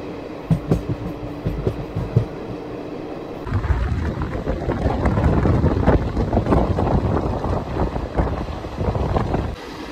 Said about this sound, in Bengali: আমাদের ট্রেন কিন্তু দেখুন এই মুহূর্তে খানা ছেড়ে বেরিয়ে যাচ্ছে